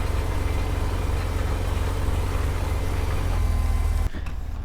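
A tractor pulling a large seed drill in the video game Farming Simulator 17 drones with a loud, steady engine hum that cuts off abruptly near the end.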